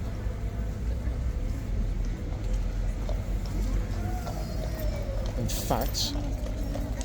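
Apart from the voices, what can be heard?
horses clip-clopping at Horse Guards, London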